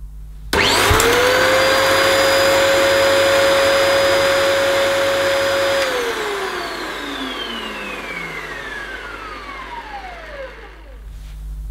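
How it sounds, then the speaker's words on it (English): A Dyson DC28 upright vacuum cleaner with its brush roll idle: the suction motor whines up to a loud, steady roar, holds, then spins down in a long falling whine, with no voices. "The suction motor sounded okay."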